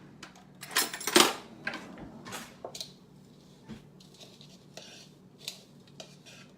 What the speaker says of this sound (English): let me just go ahead and give this a quick stir